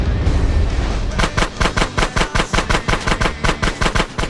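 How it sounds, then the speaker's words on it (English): Rapid bursts of automatic gunfire in GTA San Andreas as a sewer gate is shot out, loud evenly spaced shots in a fast rhythmic stream following a brief rumbling lead-in. "Shoot out the gate."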